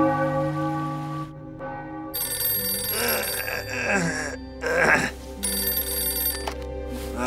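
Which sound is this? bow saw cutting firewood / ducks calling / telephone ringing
telephone ringing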